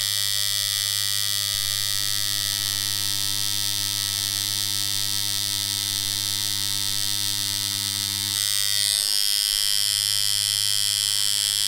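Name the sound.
JDMFG Anvil MK1 rotary tattoo machine running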